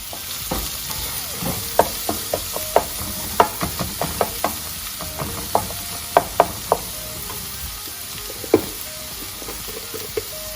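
Chopped onion sizzles in a pan for minced fish puttu, a steady soft frying hiss broken by repeated sharp knocks and scrapes of a stirring utensil against the pan, close and without speech.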